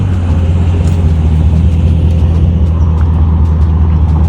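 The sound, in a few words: cars being moved, engines running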